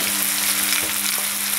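Meat broth hits frying kuyrdak, a Kazakh meat dish cooked with dough, and sets off a loud close sizzle that crackles continuously, with a faint stirring knock partway through.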